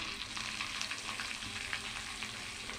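Dried red chillies frying in hot oil alongside fennel, cumin and fenugreek for a pirandai chutney, giving a steady, close crackling sizzle with no voices throughout.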